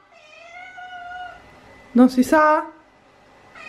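A pampered house cat wanting to go outdoors gives a sharp, close meow midway, preceded by a faint tonal hum and followed by quiet, with a person speaking briefly around it.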